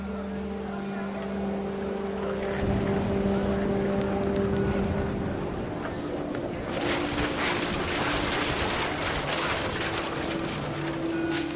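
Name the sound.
rain pouring down in the video game What Remains of Edith Finch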